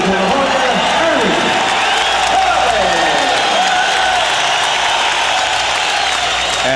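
Boxing arena crowd applauding Ernie Chavez, the Orange County, California fighter, after his bout with Meldric Taylor, a steady, loud wash of clapping and cheering heard under a commentator's voice.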